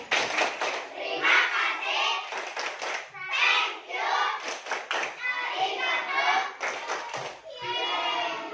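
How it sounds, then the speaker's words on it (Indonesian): A classroom of fifth-grade schoolchildren claps together in thanks, bursts of lively, close hand clapping mixed with children's voices. "beri tepuk terima kasih"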